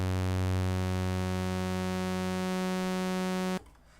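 Two sine-wave oscillators on a Radikal Technologies Accelerator synthesizer sound at the same pitch as a steady, loud sustained tone with a low component that fades partway, before the sound cuts off abruptly near the end.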